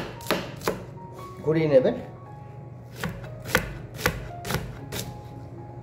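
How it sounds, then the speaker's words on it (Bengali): Sharp knife strikes chopping through a half onion on a cutting board, about nine crisp evenly spaced thunks with a short pause and brief speech in between, close and clear. "কি ভালোভাবে সেফলিভাবে অনিয়নটা চপ হয়ে গেল একবারেই"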